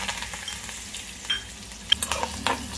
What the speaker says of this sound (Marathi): फोडणी परतून घ्यायची आहे